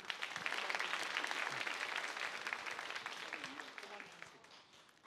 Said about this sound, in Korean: 두 분은 박수 함께 보내드리고요